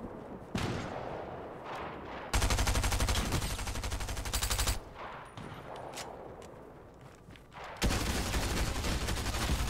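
Automatic gunfire in Fortnite rattles out in long rapid bursts, loud and close, with short gaps between volleys and a final sustained stream of shots.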